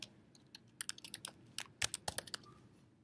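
Quiet, close typing on a computer keyboard, a quick irregular run of sharp key clicks with brief pauses between bursts.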